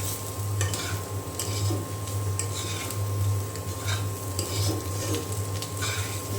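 Bitter gourd and potato being stirred in a frying pan, a steady close sizzle with scraping strokes of a spatula against the pan running throughout, no talking.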